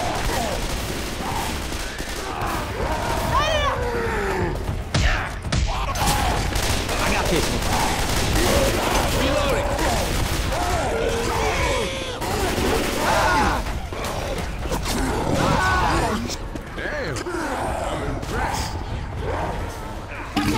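Rapid bursts of gunfire from several players shooting a tank in the video game Left 4 Dead 2, dense repeated shots and impacts running throughout, with people talking over the shooting.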